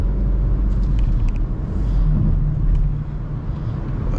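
A BMW X5 50i pulls hard down a road, its engine a deep, loud rumble that swells as it accelerates, heard from inside the cabin with steady road noise underneath.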